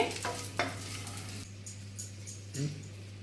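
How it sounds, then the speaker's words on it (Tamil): Garlic fries in oil for idli podi, a quiet sizzle with occasional spatula scrapes and light knocks over a low steady hum. "பூண்டு வறுத்துக்கு மட்டும் சேர்த்துட்டு நல்லா வறுத்துக்கலாம்"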